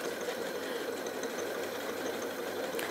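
A Janome Atelier 9 sewing machine stitching through felt, a fast, even mechanical whirr with a rapid steady needle rhythm running continuously at moderate volume.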